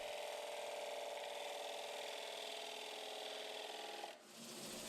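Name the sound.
sanding a wood-turned bowl smooth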